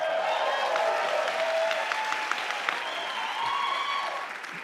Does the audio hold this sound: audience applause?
yes